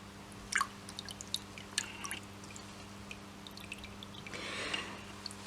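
Water drips and trickles off waterproof polyester PUL fabric with a laminate backing: faint scattered droplet ticks and a soft brief pour-like hiss over a low steady hum.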